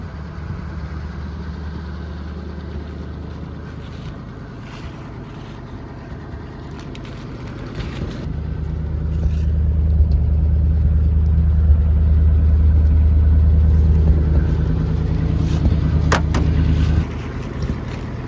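A revived 1935 Chevy coupe engine runs steadily with a low rumbling idle, swelling louder midway as it revs or nears before dropping back down.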